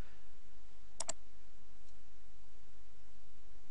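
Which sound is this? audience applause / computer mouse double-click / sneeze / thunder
computer mouse double-click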